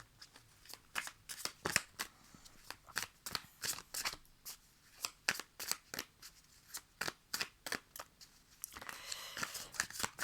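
Tarot cards being shuffled and drawn, a dense run of crisp, papery riffling clicks coming in quick repeated bursts up close, with no talk over them.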